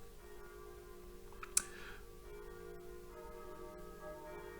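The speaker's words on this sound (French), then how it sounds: "Ah, il y a les cloches." Bells ring faintly in the distance over a steady low hum, with one sharp click partway through.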